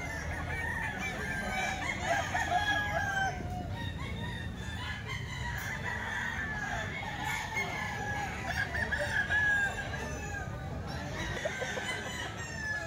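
Several rooster crows ring out over a continuous din of other fowl clucking and calling, a busy crowded setting where Golden Boy Sweater fighting cocks, including Busperi's bird, are offered for sale.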